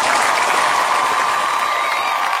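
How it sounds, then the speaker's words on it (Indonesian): A loud, dense round of clapping fills a halal bi halal sholawat gathering, sustained and even from start to finish. "tepuk tangan buat kita"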